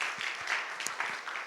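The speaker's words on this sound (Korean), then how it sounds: "박수 한번 쳐주세요" Applause from a church youth worship congregation, a short spread of clapping at moderate level with scattered hand strikes over a steady wash.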